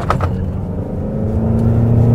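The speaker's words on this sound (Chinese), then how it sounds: "地板油走。" A blue-plate new energy car launching at full throttle in sport mode, a steady rising electric-motor hum and road rumble building in loudness, heard from inside the cabin without talk.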